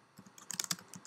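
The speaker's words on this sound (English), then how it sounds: "I would begin typing." Quiet typing on a computer keyboard: a short, uneven run of soft key clicks lasting about a second, close by, with no voice.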